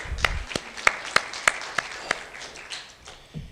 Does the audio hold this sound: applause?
yes